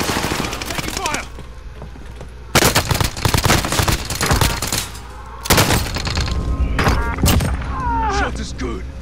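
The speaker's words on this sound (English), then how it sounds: "Taking fire!" Call of Duty: Modern Warfare gunfire comes in several loud, close bursts of rapid shots separated by short lulls, with scattered distant shots and voices mixed in.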